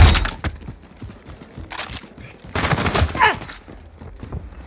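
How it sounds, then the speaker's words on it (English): Gunfire in Call of Duty: Modern Warfare's Grazna Raid map, a flurry of close, sharp automatic bursts and cracking shots in irregular clusters, with dense volleys in the middle and a brief whizzing sound among them. "Taking fire."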